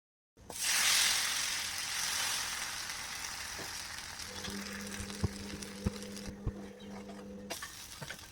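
Dosa batter hits a ghee-greased hot griddle with a sudden loud sizzle that settles into steady frying, followed by a few light taps and scrapes of a utensil.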